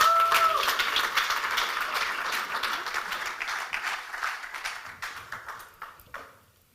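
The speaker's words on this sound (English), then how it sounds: "Please give her some applause" An audience claps enthusiastically, the applause starting full and gradually thinning out and fading toward the end.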